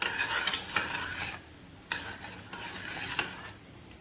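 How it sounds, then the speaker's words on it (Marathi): A spoon stirs ground cumin powder, salt and red chilli masala together in a bowl for pani puri water, making repeated close scraping and rattling strokes in short bursts with brief pauses, no voices. "आता हे चांगलं मिक्स करायचं."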